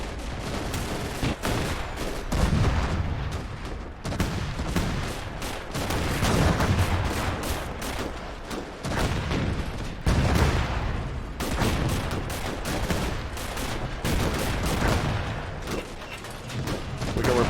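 Dense, continuous gunfire and explosions fill a WWII battle in Gates of Hell, a 1941 Soviet last-stand defense outside Moscow, with machine-gun bursts and heavy booms overlapping loudly and without pause.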